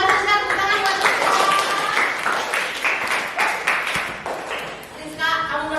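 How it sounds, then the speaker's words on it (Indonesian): Classroom applause for a student, a steady burst of many hands clapping together that carries on throughout, with voices speaking over it. "tepuk tangan buat Rizka."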